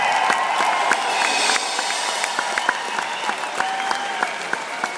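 Applause from an audience at a rock concert, a continuous wash of many hands clapping with distinct individual claps popping out, fairly even in level, with no speech over it.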